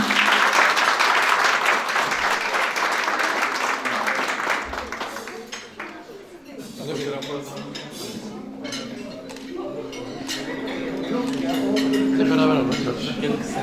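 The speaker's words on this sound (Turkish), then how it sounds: "Çok güzel bir alkış rica ediyorum kendisi için." A crowd claps loudly at first, the applause fading after a few seconds, followed by murmuring voices and clattering sounds.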